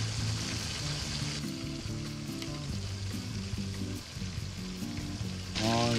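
Salt and garlic sizzle steadily on a butane grill outdoors, a close crackling fry running throughout with faint pops and no talking.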